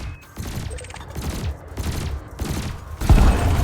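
Rapid bursts of spaceship cannon and laser fire from Elite Dangerous, repeating in a steady rhythm of loud volleys, with a heavier, louder burst near the end.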